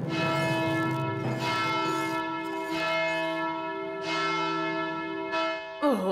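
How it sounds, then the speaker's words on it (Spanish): A large bell in an animated children's cartoon forest setting tolls several times in a slow, steady rhythm, each ring leaving a long sustained ringing tail, clear and fairly loud with no voices over it. "¡Suenen la campana de Margarita y Amapola!"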